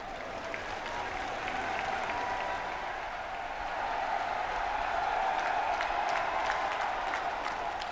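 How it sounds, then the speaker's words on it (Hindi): Large rally crowd at a prime ministerial event in Aligarh applauding in a sustained, dense wash of clapping that holds steady and swells slightly toward the end, loud and continuous with no voices on top. "जोरदार तालियां बजाएं"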